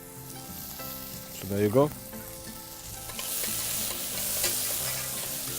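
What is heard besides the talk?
onions and curry leaves frying and being stirred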